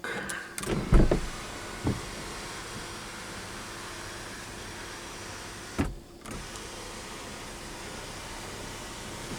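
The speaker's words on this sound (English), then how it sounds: "Sunroof does work." A steady electric sunroof motor hum runs for several seconds inside a 2010 Ford Fusion Hybrid, with a couple of soft clunks at the start and near the end.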